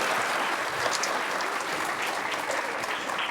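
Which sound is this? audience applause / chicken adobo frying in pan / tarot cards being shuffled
audience applause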